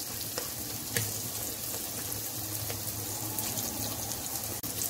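Garlic frying in a pan while preparing a drumstick leaf curry, a steady close sizzle and crackle with a few light stirring clicks, no voices.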